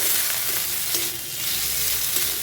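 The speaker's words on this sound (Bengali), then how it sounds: "1 চামচ আদা বাটা, 1 চামচ রসুন বাটা, আর 1 চামচ জিরে বাটাটা আমি একসঙ্গেই দিয়ে দিলাম। এবার এটাকে ভালোভাবে কষিয়ে নেব।" Ginger, garlic and cumin paste fries with ridge gourd and potato in a pan, making a brief, dense, close sizzle with a soft stirring scrape partway through and no talking.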